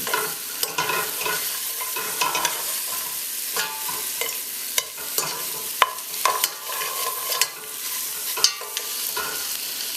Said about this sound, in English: Sort of press down and move the chops along the bottom